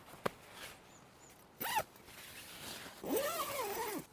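A zipper is pulled closed on a Hilleberg Soulo tent, with a sharp click and then two separate rasping zip strokes, the last one longer and louder, close up.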